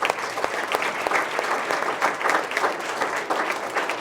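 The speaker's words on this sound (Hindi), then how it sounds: "तो एक बार फिर से जोरदार तालियों से।" Applause from a school gathering at an event closing, a steady burst of many hands clapping in a dense, even patter that continues for several seconds, with a few faint voices underneath.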